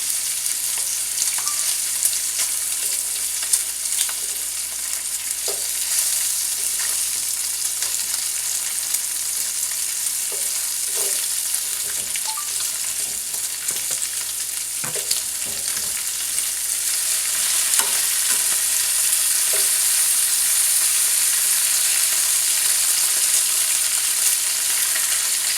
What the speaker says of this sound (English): Okay, I'm going to check the bacon. I'm going to turn it over. Ooh, it's so crispy.